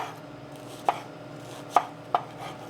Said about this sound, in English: I'm going to cut some green onion.